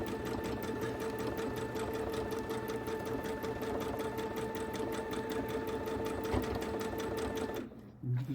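A sewing machine stitches a quilt in a fast, steady mechanical chatter with a constant motor hum, running evenly for several seconds before stopping abruptly near the end.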